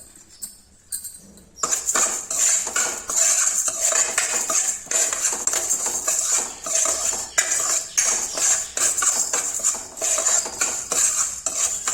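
Coriander seeds roasting with urad dal in a pan, stirred with a metal spoon, producing steady scraping and clinking that begins after a quiet first second and runs on continuously, close and fairly loud.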